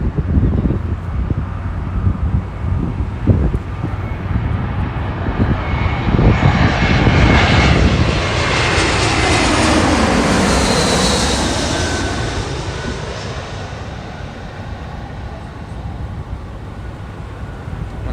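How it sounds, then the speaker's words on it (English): An American Airlines Airbus A321 jet from Phoenix passes close by at LAX, its loud engine roar swelling to a peak with a sweeping whine, then fading away as it moves off. "Next we have the American A321 from Phoenix."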